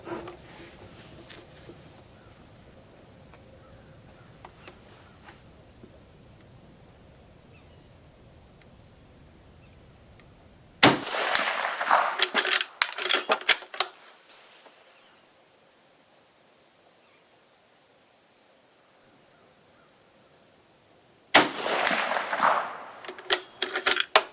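Two sharp reports from a Carcano 91/28 TS carbine at an outdoor range, spaced about ten seconds apart, each loud crack trailing into a few seconds of echoing clatter over a quiet, breezy background.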